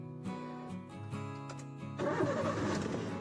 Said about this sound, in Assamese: এইটো গাড়ী ষ্টাৰ্ট হৈ গ'ল